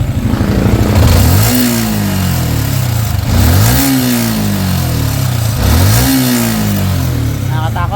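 A Yamaha Sniper 155 motorcycle engine revved hard three times to around 7,000 RPM, each rising roar dropping back to a busy idle, loud and close with someone talking over it.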